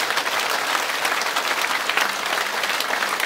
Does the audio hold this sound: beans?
no